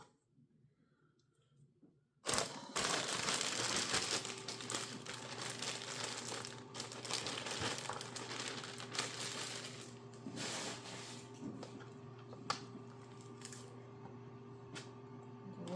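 A plastic bag holding true kidney fat for tallow rendering is opened late at night, giving loud, sustained crinkling and rustling close by after a quiet start, with no talking.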